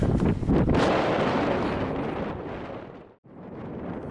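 Cold wind blasting across the microphone on a hillside near a summit cairn, a loud continuous roaring rumble that gusts and briefly drops out before returning, with no talking.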